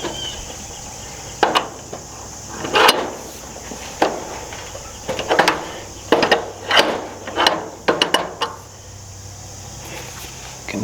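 Crescent wrenches tighten bolts on a chicken coop build, giving a series of irregular metallic clicks and clanks spaced across several seconds, with faint background hiss between them and no talking.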